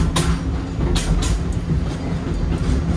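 Wildlife Express train at Rafiki's Planet Watch rolling steadily along its rails, with a continuous low rumble and a few sharp clacks of wheels over rail joints, close and loud.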